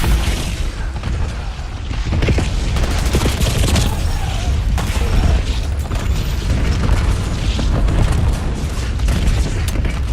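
A Semtex grenade explodes in a video game battle, heard as heavy booms within a loud, continuous barrage of gunfire and blasts that fills the whole stretch.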